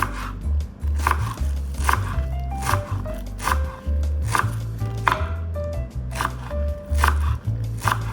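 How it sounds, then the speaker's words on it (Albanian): Knife finely chopping parsley on a board for a filling of curd cheese, steady rhythmic close thuds repeating throughout, loud and alone without talk. "Presim majdanozin, holl"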